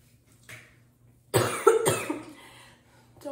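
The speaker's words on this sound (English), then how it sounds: "Don't mind me coughing" A single harsh cough bursts out loudly after a brief quiet, followed by a trailing rasp and a small sound at the end.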